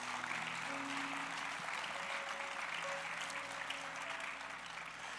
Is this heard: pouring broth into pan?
no